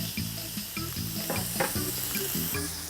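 Pork fillets, just turned halfway through cooking, sizzle steadily in a hot pan, a close, continuous crackle with a faint pulsing rhythm and no talking over it.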